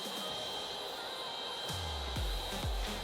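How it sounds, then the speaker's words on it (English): A heat gun blows steadily while drying black plastic trim restorer on a car, a constant close airy whir with a few low thumps underneath, no voices. "you can use your heat gun to send that off"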